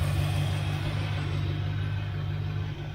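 A 1969 Chevelle Malibu engine idles steadily, a loud, even low rumble with a constant drone and no revving, close to the car.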